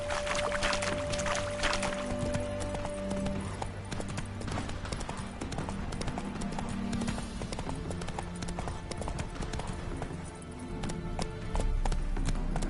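Hooves of a horse in The Witcher 3: Hearts of Stone clop steadily at a walking pace over a continuous ambient game soundscape with a low hum, with no voice heard.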